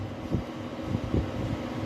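A common hair dryer blows hot air with a steady, even whoosh of airflow at moderate loudness, carrying faint low rumbles and no voices.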